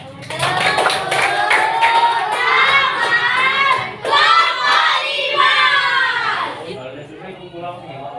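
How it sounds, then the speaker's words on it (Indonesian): A classroom of children clapping and cheering loudly for a group of classmates, with bursts of excited shouting and chatter over the applause before it fades out. "beri tepuk tangan untuk kelompok 5"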